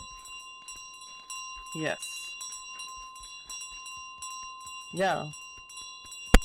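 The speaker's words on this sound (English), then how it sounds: "when we drop this bell into the pit at the end" A bell in Untitled Goose Game rings with a steady, sustained metallic tone and a faint repeated ticking. Brief voices speak over it twice, and a sharp knock comes at the very end.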